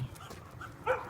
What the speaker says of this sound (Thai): ได้ยินเสียงเห่าไหมนั่นคือเสียงโกลเด้นค่ะ